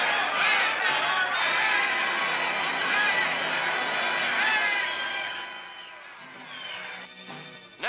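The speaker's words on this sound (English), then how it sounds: "At the gates of the Premier's home, Japanese police try vainly to force the crowd back." Loud, shrill clamor of a 1946 crowd pushing at the gates of the Japanese Premier's home while police try to force it back, a dense mass of shouting voices that eases off toward the end, with an old newsreel's thin, hissy tone.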